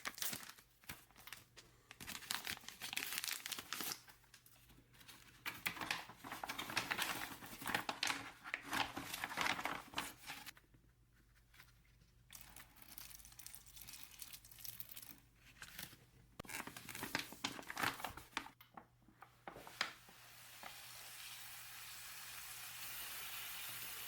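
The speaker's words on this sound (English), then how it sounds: "Listen to that thing. Kind of sizzling." A flameless ration heater hisses and sizzles steadily as it heats a pouch of pasta, with crinkly rustling of the packaging over it and no talking.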